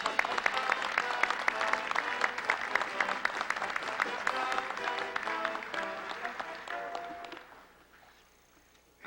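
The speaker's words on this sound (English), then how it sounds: "I think it's a good time to applaud your dinner chairman" A banquet audience at the 1979 College Football Hall of Fame ceremony in the Waldorf Astoria gives sustained, full-room applause with dense crackling clapping that holds for several seconds and then tapers away into quiet.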